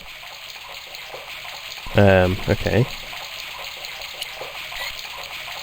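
A creaking faucet in the Broken Sword video game, set in Ireland, coughs and spews a steady stream of rusty water with a constant rushing hiss. A short spoken word briefly rises over it.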